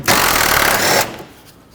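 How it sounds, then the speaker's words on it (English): A 10mm socket driving a bolt out on a Chevrolet Express van engine bay, one loud buzzing burst about a second long, likely a power ratchet, then fading off with no talk. "10mm socket, remove this bolt."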